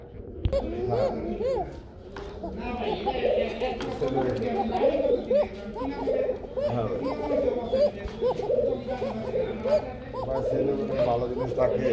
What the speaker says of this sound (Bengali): আজকে কেমন পরিমাণ ডাকা ডাকে এই কবুতর গুলো দেখলে বুঝতে পারবেন।